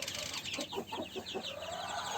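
Three-week-old chicks cheeping in a brooder, a steady chorus of high, overlapping peeps close by with no voices.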